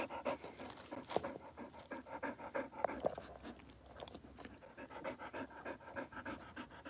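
A mother dog that recently had puppies pants rapidly and steadily up close, with a fast, even rhythm of short breaths continuing throughout and no voices.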